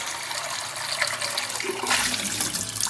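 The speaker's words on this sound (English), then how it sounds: "empty out the boiling water and we're going to fill the pan with cold water" Cold tap water runs into a cooking pan in a kitchen, a steady close rush of water that swells louder near the end as the flow increases.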